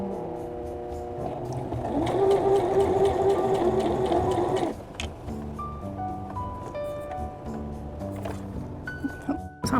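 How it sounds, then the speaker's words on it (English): A sewing machine chain sews quilt pieces, running in a steady loud whir for several seconds before stopping abruptly, followed by quieter handling sounds while a person talks. "So I am chain sewing these, so I'm just going through."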